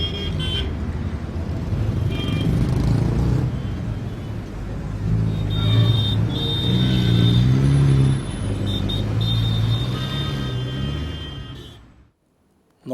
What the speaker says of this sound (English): For example, this sound of traffic